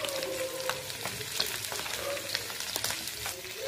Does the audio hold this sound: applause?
no